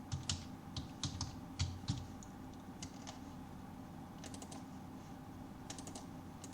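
Fingers tap on a computer keyboard in quick irregular bursts of clicks with short pauses, close and quiet over a faint background hum.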